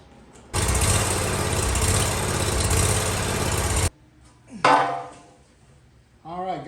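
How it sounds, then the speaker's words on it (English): Scag Cheetah riding mower from 2019 roars to life loudly and runs steadily near at hand for several seconds, then cuts off; a brief clattering noise and some faint voice-like sounds follow in the quieter stretch. "So let me get the engine started."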